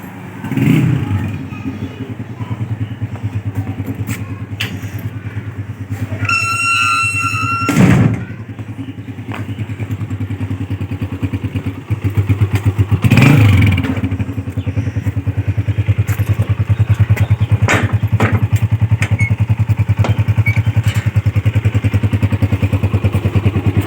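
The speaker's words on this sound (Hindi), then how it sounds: "बाहर बाइक जो स्टार्ट करके खड़ा है" A motorcycle idles outside and runs with a steady low engine rumble that lasts throughout, broken by thumps and clatter nearby; someone talks over it.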